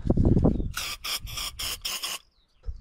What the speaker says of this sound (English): we'll just give it a quick spray out with carb cleaner anyway